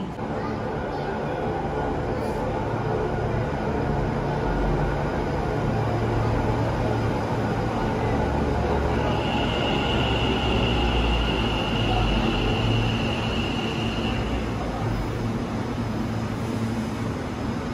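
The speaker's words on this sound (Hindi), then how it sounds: "दूर से ही दिखाई दे रहा है कि हमारी ट्रेन आ गई है" Ahmedabad metro train arriving at a station platform, a continuous loud rumbling roar with a steady whine rising briefly midway, close by and unbroken throughout.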